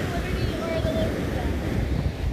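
Atlantic Ocean surf and strong wind at Point Pleasant Beach, a dense, loud roar of waves and buffeting wind on the microphone, with faint voices in the background.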